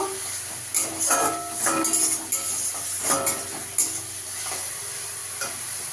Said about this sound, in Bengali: এবার টমেটোটা দিয়ে দেবো। টমেটোটা দিয়ে একটু ভেজে নেব।